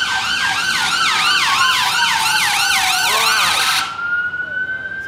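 An ambulance siren wails close by near a busy London ambulance station, its rising and falling tone repeating loudly for about four seconds before cutting off abruptly and leaving traffic noise.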